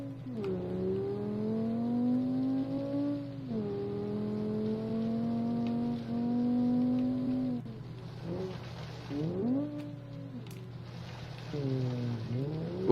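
Ferguson AX300 rally car in BeamNG.Drive on a gravel Pikes Peak hillclimb, its engine droning and bogging at low revs, pitch sagging then climbing again through several gear pulls, steady and close.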